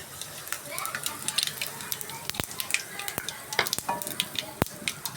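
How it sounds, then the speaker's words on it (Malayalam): Mustard seeds crackle and pop in hot oil during tempering for a Kerala mango curry with dried red chillies: a steady close sizzle studded with many sharp, irregular pops. "നമ്മുടെ കടുകൊക്കെ നല്ല ചടപട ചടപട പൊട്ടുന്നുണ്ട്"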